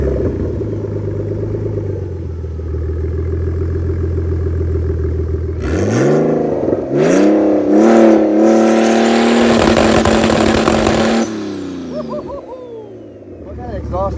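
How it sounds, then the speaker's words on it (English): A turbocharged wide-body BMW E46 idles with a low burble, then its exhaust barks into loud, close revs that rise and fall before easing back to idle, with a voice speaking faintly partway through. "So let's have him start it up and you guys can hear the exhaust. It sounds so good."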